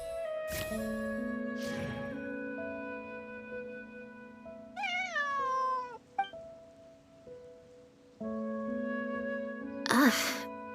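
Cat meowing in a cartoon scene, several drawn-out, pitch-bending meows among musical tones and brief voices, with a louder yowl near the end.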